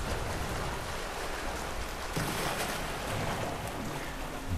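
Water drains away in the video game Deadlight with a dense, steady rushing and gushing that continues for the whole stretch without pause and stays loud and close.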